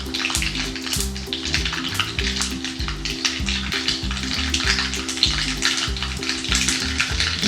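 Mustard seeds crackle and sizzle steadily in hot oil for a Maharashtrian savoury breakfast dish, a dense, continuous frying hiss with sharp pops throughout, fairly close and with no talking.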